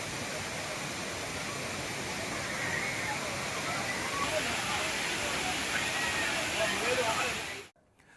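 Thirparappu waterfall roaring steadily as tourists bathe beneath it, a dense unbroken rush of falling water that holds constant before cutting off abruptly near the end.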